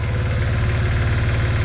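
A Honda ATC70 engine runs steadily with wheels spinning freely off the ground, a loud, close, continuous low idle with even mechanical thrum and no talk.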